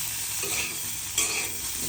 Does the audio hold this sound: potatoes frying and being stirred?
yes